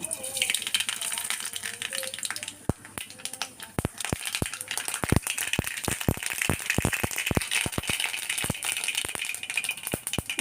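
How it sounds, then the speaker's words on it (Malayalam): Mustard seeds splutter in hot oil while tempering a curry of taro stems, cassava and ash gourd, sending irregular sharp pops and crackles over a faint background hiss, heard close. "കടുകിട്ട് കൊടുക്കാം"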